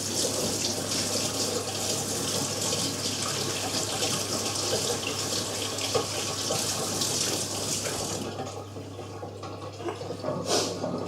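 Tap water runs steadily, rinsing a cold-blued metal part under the stream, with splashing that shifts and thins near the end.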